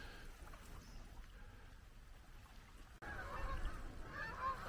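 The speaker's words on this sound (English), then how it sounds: "there's a whole gaggle of geese following that boat along" A gaggle of geese following a boat along the water, honking in a scattered, fairly distant chorus over steady engine and water wash, the honks growing louder and busier partway through.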